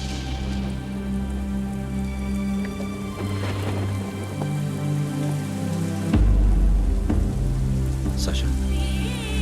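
Rain falls steadily on a surface, a dense close patter running alone under a sustained musical score that swells partway through.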